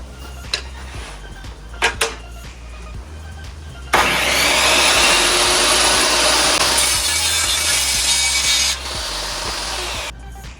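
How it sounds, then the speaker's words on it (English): A table saw rips through a wooden board in a home workshop, its loud, steady cutting roar holding for about five seconds before easing off, after a few light knocks as the piece is set up. "let's just take this to the saw table. We'll cut this off"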